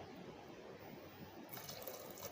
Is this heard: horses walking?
no